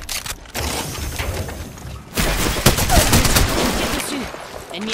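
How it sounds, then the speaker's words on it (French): Loud gunfire in Apex Legends Season 6: sharp, rapid bursts of automatic shots with a short lull, then a second heavier volley that continues to the end, with game sounds mixed in. "On tire dessus."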